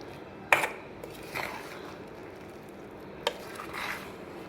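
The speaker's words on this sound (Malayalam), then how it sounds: "എന്നിട്ട് എല്ലാം കൂടി ഒന്ന് ഇളക്കി യോജിപ്പിക്കുകയാണ്." Vada batter with chopped curry leaves and coriander is mixed by hand in a bowl, quiet soft stirring with a couple of brief clinks of a utensil against the vessel, no voices.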